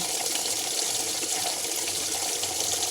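Tap water runs steadily for washing the face, a continuous bright splashing hiss at close range, loud and unbroken, with no voices.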